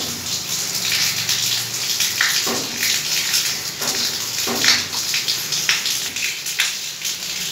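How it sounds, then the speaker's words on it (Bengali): Rain falls steadily outdoors as a continuous broadband hiss, with scattered louder drips and splashes landing on nearby surfaces throughout, no voices present. "বাইরে বৃষ্টি হচ্ছে।"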